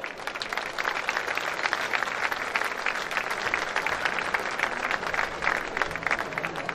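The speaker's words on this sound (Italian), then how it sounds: "Applausi per lei." An open-air festival concert audience applauds a soprano taking the stage at a band concert, dense crisp clapping with occasional louder bursts, sustained and close for several seconds with no voices.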